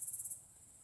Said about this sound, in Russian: Уже сумерки. Поет сверчок.